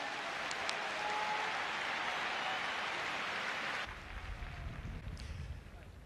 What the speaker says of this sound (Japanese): もう一回選手に大きな拍手お願いします。